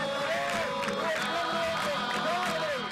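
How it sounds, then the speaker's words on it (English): A large outdoor crowd at the Pope's parade in Washington, D.C. sings together in response to protesters, with sustained melodic voices rising and falling over a broad murmur of people. "the crowd answered them in song"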